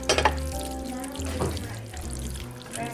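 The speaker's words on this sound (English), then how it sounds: "We're just gonna pour this in here now." Spaghetti and meat mixture sliding and pouring into a sprayed 9x13 baking dish, a steady soft wet slurping and scraping that continues throughout with a few brief clunks, close by.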